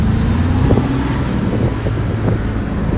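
A Ford Lobo pickup truck engine roars loudly and steadily under hard acceleration in four-wheel drive, a deep continuous rumble close by with no talking.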